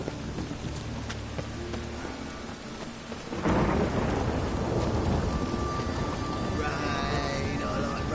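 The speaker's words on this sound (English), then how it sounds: "Rain, I like rain." Rain and rolling thunder in The Witcher 3: quiet ambience with faint rain for a few seconds, then a loud crash of thunder swells into steady heavy rainfall that continues to the end, with a thin whistling tone above it.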